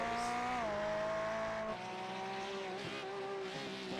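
A Porsche GT3 race car in iRacing at Laguna Seca roars past under load, its steady high engine tone shifting pitch as it changes gear, loud and close with no talking.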